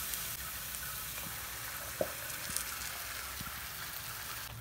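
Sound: tomato puree frying in pan

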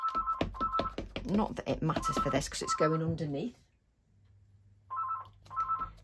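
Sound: telephone ringing

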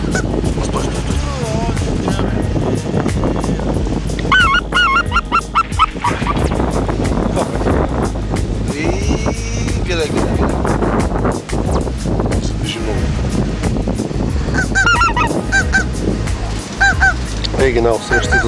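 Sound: specklebelly geese honking in flight, Bulgaria

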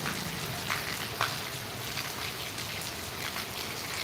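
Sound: heavy rain with large drops in Gondal

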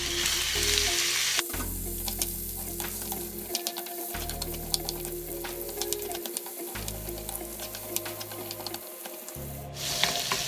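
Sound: butternut squash stir-frying in oil

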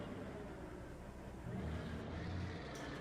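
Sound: truck engine rumbling in video game

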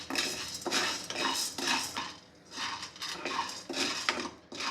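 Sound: dry roasting sago pearls in a pan

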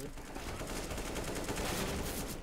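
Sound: gunfire in the video game CS:GO

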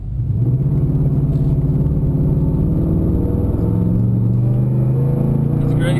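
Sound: Nissan Titan pickup truck accelerating hard up an incline

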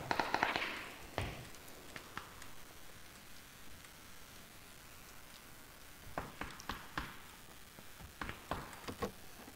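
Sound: gunfire nearby in PUBG video game

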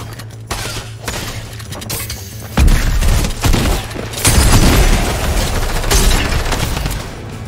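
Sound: drum gun gunfire from a video game

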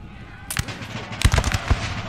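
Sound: musket volleys firing in the video game Napoleonic Total War 3

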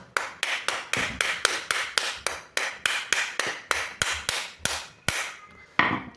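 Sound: hammer knocking on car door handle

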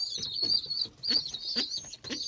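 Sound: Malatya tumbler pigeon chicks, hungry

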